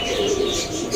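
Soft, low cooing of pigeons close by, a steady murmuring coo with faint rustling behind it.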